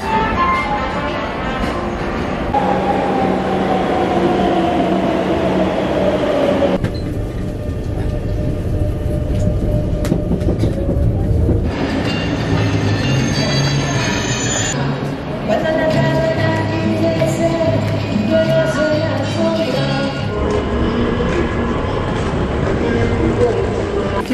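A subway train in Madrid rumbles steadily along, its motor whining and shifting pitch, with muffled voices now and then over the continuous rolling noise.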